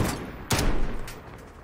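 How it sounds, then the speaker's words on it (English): One sharp, loud sniper rifle shot fires in Call of Duty Plunder mode, followed by a short fading echo, with a faint softer report afterward. "Got a kill with a sniper."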